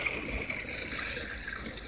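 Cold water pours steadily into a milk jug, a continuous close splashing gush with no pauses and no voices.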